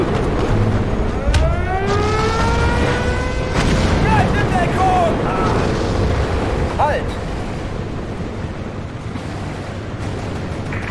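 Artillery fire in the video game Steel Division 2, booming reports rumbling under a dense battle din, with a rising whistle and voices talking over the mix.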